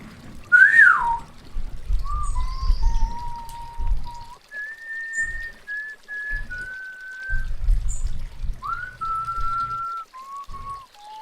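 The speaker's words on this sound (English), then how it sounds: "I came to a bridge and fell to whistling." A melodic whistled tune in The 39 Steps video game, clear sustained notes rising and falling in short phrases over a soft running-water background near a bridge.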